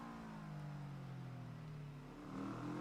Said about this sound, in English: I know it's mostly been just engine sounds for this race